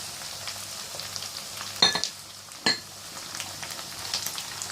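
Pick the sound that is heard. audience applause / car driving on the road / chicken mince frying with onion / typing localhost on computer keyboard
chicken mince frying with onion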